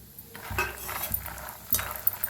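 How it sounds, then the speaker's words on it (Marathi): Peanuts roast in hot oil in a wok for chivda, giving soft, scattered clinks and rattles of nuts and spoon against the metal, with a few sharper taps over a low sizzling bed. "आता हे सगळं शेंगदाणा भाजून घेऊया आपण"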